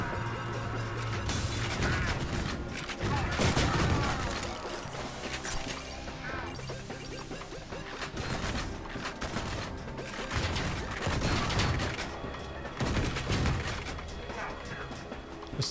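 Video game gunfire crackles in rapid bursts and scattered single shots, with impacts and clatter mixed into a dense, continuous game soundscape at moderate level.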